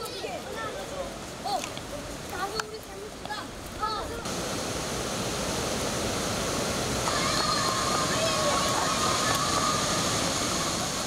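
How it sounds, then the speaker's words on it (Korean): Steady roaring rush of a 75-metre waterfall fills the clip, with a few voices and faint calls heard over it early on before the roar takes over. "높이가 무려 75m로 폭포 소리가 온 고란을 울립니다."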